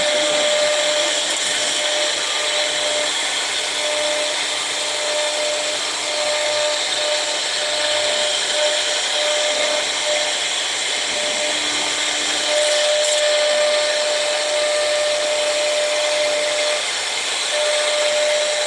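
A CNC machine profiling a part hums and hisses steadily with a sustained whine, a constant near machining drone running without pause, with vacuum hold-down on the machine bed.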